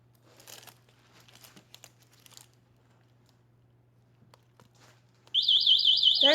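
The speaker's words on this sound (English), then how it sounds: "That's the alarm." The alarm on a Joyor F7S electric scooter goes off after a quiet stretch of faint rustling and handling noises. It sounds as a loud, close warbling siren that continues to the end.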